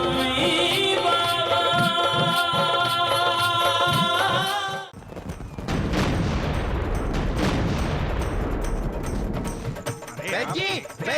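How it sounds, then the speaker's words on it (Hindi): Dramatic booms and blasts go off in a TV serial scene set in Shirdi, following a stretch of loud music, with crackling explosive noise filling the second half. "धमाके ही धमाके हो रहे शिरडी में।"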